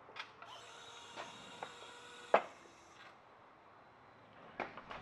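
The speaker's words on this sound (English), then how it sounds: "you'll see that I have my ratchet wrench up top" A ratchet wrench working on a wrecked 2011 Mustang GT gives a few sparse, quiet clicks and creaks, with one sharper knock midway, close by in a quiet garage.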